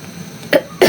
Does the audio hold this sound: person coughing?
yes